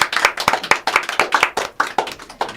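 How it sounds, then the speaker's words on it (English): A small studio group at a community radio show claps for musician Michael Tyree, giving a close, sparse round of distinct hand claps in an uneven rhythm, loud and without speech. "Let's give Michael a round of applause."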